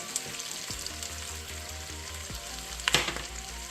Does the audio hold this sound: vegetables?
yes